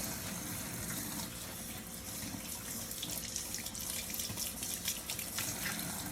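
Tap water runs steadily into a sink while barbering tools are scrubbed and rinsed before disinfection, a constant close hiss with small splashes and clatter, no talk.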